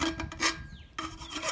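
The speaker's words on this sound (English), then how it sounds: "you just want to take a file and get rid of all these burrs." A file rasps burrs off the cut end of a turbo pipe in quick, close, gritty strokes, alone with no talk.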